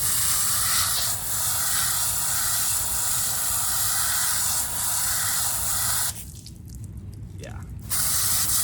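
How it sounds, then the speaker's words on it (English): A microfiber polishing pad gets rinsed under a clean water spray, a steady hiss lasting several seconds before a brief break with a faint voice, then the spray resumes. "hit it with clean water"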